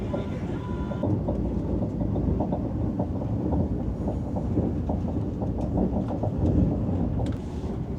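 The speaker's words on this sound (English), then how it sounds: "Some people don't consider this as high-speed train because the speed limit is at 160 kilometers." Interior rumble of a train from Vientiane to Bangkok running at speed, a steady low roar with faint rhythmic clicks of the wheels throughout, no voices.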